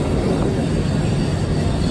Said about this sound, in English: Man, that is a long train.